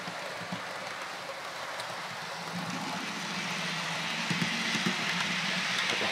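Modern-era model railway locomotives run along a layout's track, giving a steady, moderately loud rushing rumble with a faint low hum that builds slightly over several seconds, with no voices.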